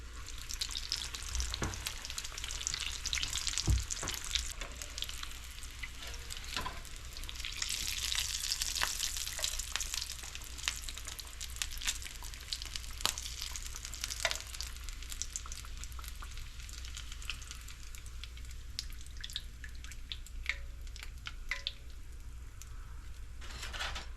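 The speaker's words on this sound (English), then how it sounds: "I think this needs fried a little more on this side." Food sizzling steadily in a frying pan for a home-cooked dinner, a continuous crackling hiss with occasional sharper pops and clicks of handling, no voices.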